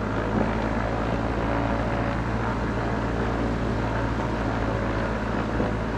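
Light aircraft engine held at high power around 1700 rpm for a magneto check, a steady loud droning roar with constant tone, close and unbroken throughout, no voices.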